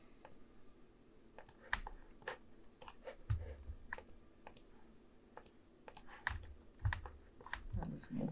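Soft, irregular clicks of computer keyboard keys being pressed during 3D modeling work in Blender, quiet and close, with scattered taps and a few heavier thumps.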